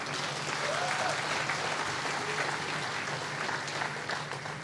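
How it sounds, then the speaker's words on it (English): Audience at a Robben Island keynote address giving steady applause for President Ramaphosa, a continuous wash of crowd clapping held evenly throughout. "if we can give him a hand of applause"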